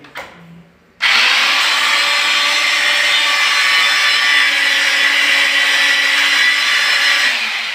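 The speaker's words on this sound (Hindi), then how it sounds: "वहाँ पे ड्रिल कर देंगे।" Power drill boring holes for fitting a commode, starting abruptly after a faint lead-in and running as a loud, steady whine to the end.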